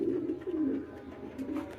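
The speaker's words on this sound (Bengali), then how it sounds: "আলহামদুলিল্লাহ আমাদের সকল কবুতর ঠিক আছে" Pigeons in a loft in hot weather cooing, a few low, rolling throaty coos close by, repeating softly over about two seconds.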